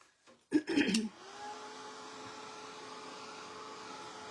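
A hair dryer blows on wet paint on a painted snowman plate, a steady whirring hum that follows a short clatter as it switches on.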